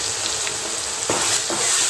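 Coarsely ground chili, ginger, garlic with cumin and asafoetida sautéing in a pan for methi matar malai, a loud continuous sizzle with a couple of soft stirring scrapes, no talk.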